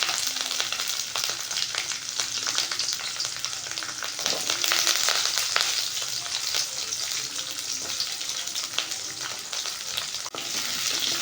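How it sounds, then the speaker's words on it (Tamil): Small onions fry in hot oil for a chickpea curry, a steady close sizzle with occasional stirring scrapes throughout. "சின்ன வெங்காயத்தை ஆட் பண்ணிக்கோங்க."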